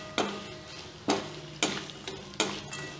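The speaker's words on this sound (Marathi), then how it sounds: "आता हे सुद्धा मी चांगलं परतून घेणार आहे." Chivda with dal, sesame, ajwain and fennel powder sautéing in a pan, a faint sizzle broken by four sharp spoon-against-pan scrapes at regular intervals.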